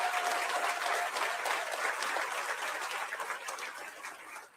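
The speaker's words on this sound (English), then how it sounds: "applauded up out of their seats." Audience of classmates and families applauding and rising from their seats, a sustained wash of clapping that holds steady and then tapers off at the close.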